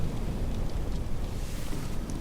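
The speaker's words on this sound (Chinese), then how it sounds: "这儿的风声好听，不吵不闹的" Steady wind gusts roar and rumble without pause, a dense low blustery noise with no voices over it.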